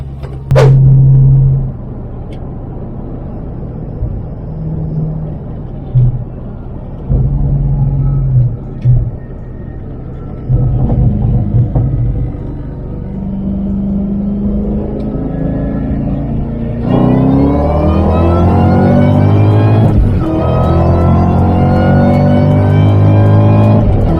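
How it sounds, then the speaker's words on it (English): A 2003 SVT Cobra with its stock factory Eaton supercharger revs loudly, the engine rumbling low before rising into a sustained climb with a rising whine over the last several seconds. "these blowers, these stock factory Eaton blowers, they're screamers, man"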